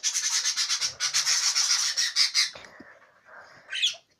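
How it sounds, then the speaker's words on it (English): Pet birds indoors chirp and squawk loudly in the morning, a dense run of rapid, bright calls for a couple of seconds, then quieter scattered sounds and a final sharp squawk. "they normally don't tweet this loud in the morning"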